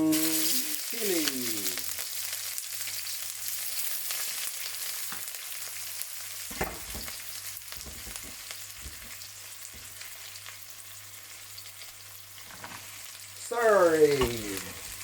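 Garlic, ginger, onion and chili stir-frying in a wok: a steady close sizzle with intermittent clinks and scrapes of a spatula, swelling louder near the end, with brief faint voice-like sounds.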